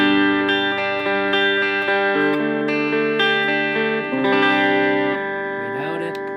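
An electric guitar played through a BOSS reverb unit sustains smooth, ringing chords with a lush, spacious wash, shifting between a few chords without pause.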